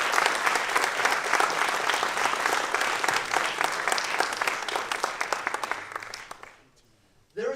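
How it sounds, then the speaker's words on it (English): An audience at the Carnegie Mellon Racing rollout event applauds the sponsors, a loud, full round of clapping that thins out and fades near the end, followed by a sudden burst of sound. "could we all have a round of applause for our gold, silver, and finally our bronze sponsors"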